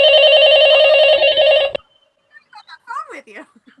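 A telephone rings in a staged play, a loud, bright electronic trill that rings continuously and cuts off abruptly, followed by a moment of silence and then a voice speaking.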